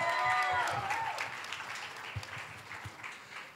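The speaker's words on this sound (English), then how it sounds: "Give them Woo! A clap." An audience at the WVSOM Follies 2020 stage show applauds together. The clapping starts fairly loud, then thins and fades over a few seconds.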